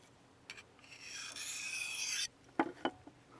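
A curved blade is drawn along a ceramic sharpening rod in one long, steady rasping stroke, followed by a few short, sharp scraping taps, close and clear with no talking.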